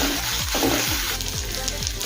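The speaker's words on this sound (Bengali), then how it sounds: "কিছুক্ষণ সময় নিয়ে আদা রসুন পেঁয়াজের সাথে ভালো করে কষিয়ে নেব" Ginger-garlic paste sautéed with fried onions for Kolkata-style egg biryani, a brief loud sizzle with rhythmic scraping strokes of a spatula repeating about every quarter second, no speech.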